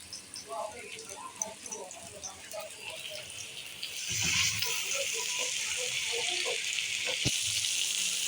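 Chicken tikka kebabs sizzle on a hot tawa griddle, a steady hiss that rises partway through, with someone talking over it.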